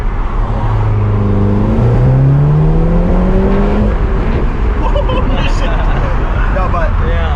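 A stage 2 VW Golf R 2.0 engine revs hard against the brakes for a boost launch, rising in sweeping pitch climbs under loud, close engine roar, with people talking over it.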